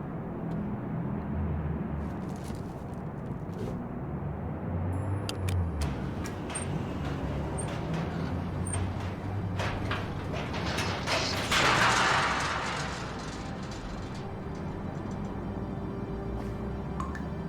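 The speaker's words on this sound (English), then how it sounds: "The fan shudders when it slows down." An air conditioning unit's fan in Broken Sword shudders and rattles as it slows down, a loud mechanical grinding and clattering with ratchet-like ticks and creaks sustained over many seconds.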